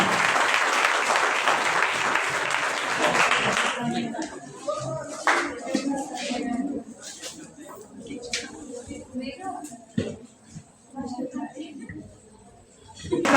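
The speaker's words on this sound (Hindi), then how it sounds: "एक बार जोरदार ताली अनामिका के लिए।" Clapping crowd at a university Hindi department prize-giving ceremony, a burst of loud applause for the second-place winner that fades after a few seconds into scattered claps and room murmur.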